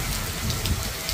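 Rain falls steadily in a rural village, a soft continuous hiss of drops on surfaces, moderately loud and close with no one talking.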